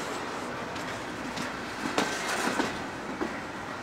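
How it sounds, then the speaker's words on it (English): A passing CSX freight train rolls by close up with a wheel that sounds bad, steady rumble of cars with sharp clicks and knocks from wheels over rail joints, loudest around the middle, no talk. "That wheel sounded kind of bad."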